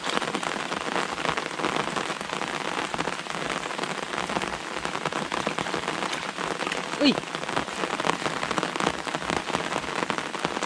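Steady, dense rain patters continuously on a surface, an even hiss with no pauses and no voices.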